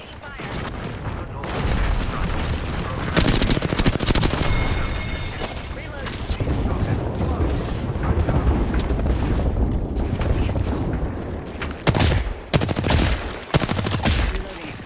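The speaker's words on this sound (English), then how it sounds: "Opening fire." Gunfire rattles almost continuously in an Apex Legends-style shooter, with dense automatic bursts, sharp individual shots and heavier booms, loud and close throughout.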